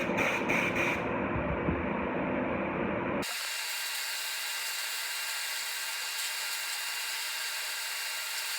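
A spray gun applying Sherwin Williams All Surface Enamel primer, a close rushing hiss of air and spray that starts with a fuller burst and then settles into a steady thinner hiss, with no voices.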